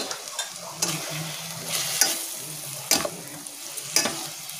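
Masala of chilli powder, turmeric and salt is stir-fried in oil in a pan for a Bengali doi chicken, a steady close sizzle broken by regular scraping strokes of a spoon about once a second.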